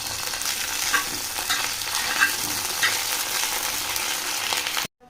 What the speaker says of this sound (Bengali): লবণ দিয়ে এই উস্তাগুলোকে আমি একটু ভালো করে ভেজে নেব তেলের ভেতর